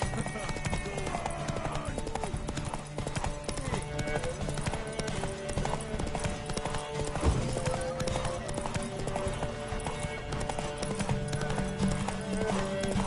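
Horse hooves clip-clop at a trot in The Witcher 3, a steady rhythmic patter beneath game music, with occasional whinnies and a voice talking over it.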